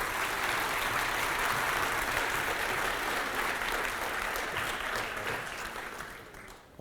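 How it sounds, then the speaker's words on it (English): Sustained audience applause for young student writers at a children's book festival, a broad steady clatter of many hands that holds and then fades away near the end. "Let's give all these great writers another round of applause."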